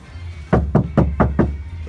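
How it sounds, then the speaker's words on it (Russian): Five evenly spaced knocks on the rear door panel of a car, which has only thin strips of vibration-damping material, each knock a dull, close thud in a quick steady rhythm. "Такой звук от двери."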